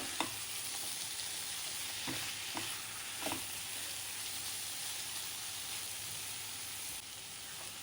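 Taro (arbi) is stir-fried with spices and cumin powder, giving a constant close frying hiss. A spoon scrapes and knocks against the pan several times.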